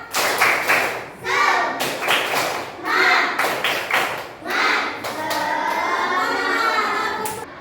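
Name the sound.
class doing a rhythmic clapping cheer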